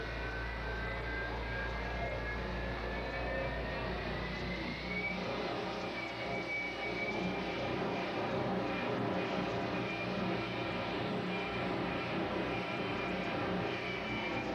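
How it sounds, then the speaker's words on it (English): A constant, heavy engine roar with a rising whine layered on top, loud and unbroken throughout, from a jet-powered Kenworth truck, like a powerful jet engine idling nearby. "fire and smoke comes out the stack of Bob Moses' incredible jet-powered Kenworth"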